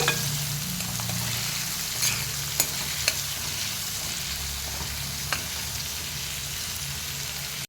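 Onions frying with salt in a pan, a steady close hissing sizzle running throughout, broken by a few light spoon clicks and scrapes against the metal.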